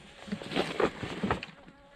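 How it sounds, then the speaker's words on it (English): Bees buzz close by, their drone rising and falling as they fly past, with no voices, at a winter campsite on Mica Peak, Gold Butte National Monument, Nevada. "the bees are back up here"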